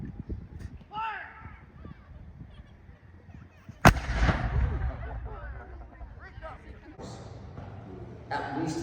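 A single loud gun blast fired by gunners at a Colonial Williamsburg demonstration, following talk and a shouted command, with crowd noise and chatter continuing afterward.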